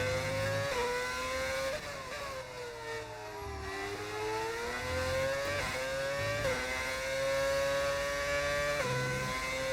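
Race car engine with a sound mod in an F1 racing video game, whining steadily at high revs with repeated gear shifts and pitch dips as the car brakes and accelerates, loud and continuous with no talk.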